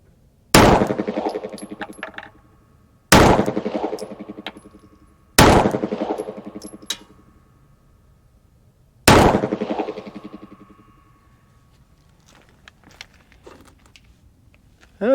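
Four loud, sharp 9mm pistol shots with defensive rounds are fired over a chronograph at a range, spaced a few seconds apart, each with a ringing echo tail, followed by quieter handling clicks.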